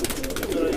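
Kalpare Madrasi fancy pigeons in a loft give a brief, steady low cooing, several birds murmuring together close by for under a second.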